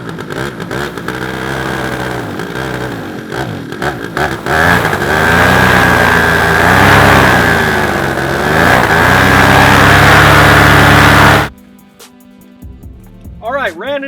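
A Black Devil 172 engine on a trike, running in with its propeller at varying RPM: a loud, close, continuous buzzing drone that wavers in pitch for about eleven seconds before abruptly cutting off.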